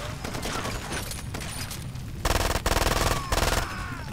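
Several short bursts of automatic gunfire ring out in the video game Far Cry 2, each a rapid string of loud, close shots, over a constant background of game ambience.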